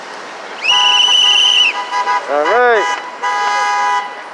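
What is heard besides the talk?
car horn honking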